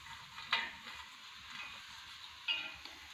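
Garlic fries in hot oil with roasted green chillies for a Satara-style thecha, a steady close sizzle broken by two brief stirring clicks of a utensil against the pan.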